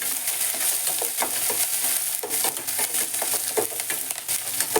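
Curry leaves and grated ginger fry and crackle in a pan, with a steady close sizzle and scattered stirring scrapes throughout, no voices.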